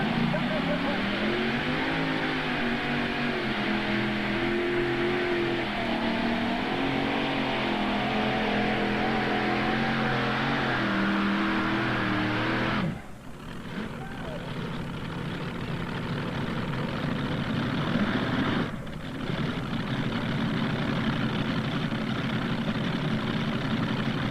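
A modified pulling tractor powered by 1,710 cubic inch Allison engines roars with a loud, rising and falling multi-engine drone at a 1995 Imlay City, Michigan tractor pull, dropping off sharply partway through, with an announcer talking over it.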